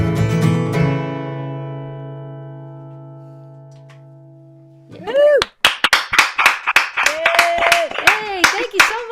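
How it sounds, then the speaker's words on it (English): A sustained musical chord rings out and fades at a songwriter showcase, then a small audience claps in scattered, uneven bursts while a voice speaks over the applause. "Wow, what is that noise? Oh, it's applause."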